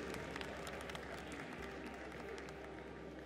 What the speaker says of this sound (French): Ne faisons pas de parti pris, applaudissons-le aussi.